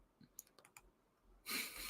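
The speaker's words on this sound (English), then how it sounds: "Let's click on that for people to see." A computer mouse gives a few quick, light clicks spaced across the first second, followed by a louder, sustained burst of broadband noise.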